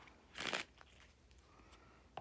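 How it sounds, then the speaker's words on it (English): A deck of playing cards is shuffled once in a quick, crisp riffle, then a few faint taps and card clicks follow in an otherwise quiet room. "I'll shuffle up the cards."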